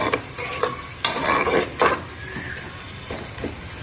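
Onions frying in oil with marinated meat get stirred in a pan, scraping strokes and soft clanks over a low, steady sizzle, close and fairly loud, with no one talking.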